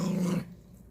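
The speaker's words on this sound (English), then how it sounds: "She still growls every time he comes near." A dog growling, a close, low, rumbling growl that lasts under half a second and then cuts off, leaving quiet room noise.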